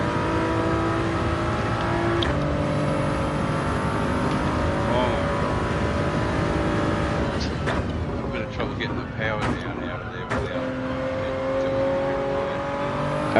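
A race car engine in Gran Turismo 7 online daily racing revs hard and climbs through the gears as it accelerates, with sharp shifts and a few clicks, while commentators talk throughout.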